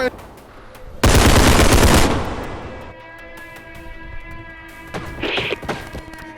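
Gunfire from the tactical shooter game Bodycam: a loud, dense burst of rapid automatic shots lasting about a second, followed by a decaying echo, a couple of fainter distant thuds and a brief high ringing tone.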